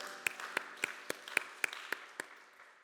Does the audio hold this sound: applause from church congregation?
yes